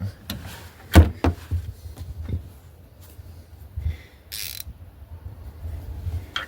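A ratchet wrench works on the shocks of a 1998 Ram 1500 truck, giving a few close, sharp mechanical clicks and clanks spread out over the clip, with quiet handling noise in between.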